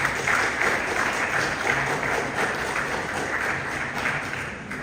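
An audience applauds at a national seminar's valedictory session, a dense, steady wash of clapping that holds at an even loudness for several seconds.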